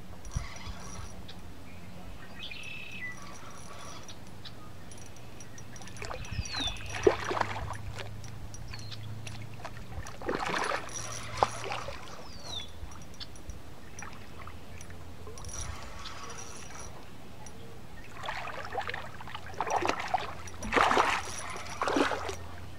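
A hooked catfish on a bobber rig thrashes and splashes at the surface in a few separate bursts of water noise over a quiet outdoor background, with no talking.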